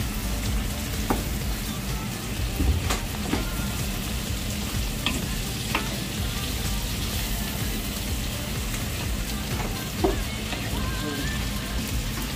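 Oil heats and sizzles loudly in a pan in a shared kitchen, with a steady crackling hiss, occasional sharp pops and clinks, and no voices.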